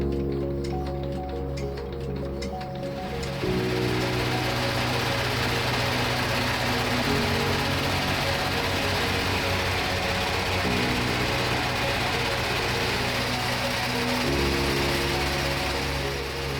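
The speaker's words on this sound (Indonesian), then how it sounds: "kita giling." A machine grinds dried gliricidia leaves into flour for cattle feed, a steady loud mechanical drone with a constant hum that shifts pitch slightly as the load changes, running throughout with no speech.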